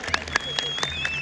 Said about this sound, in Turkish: Hep birlikte alkışlayalım şampiyon takımın şampiyon oyuncularını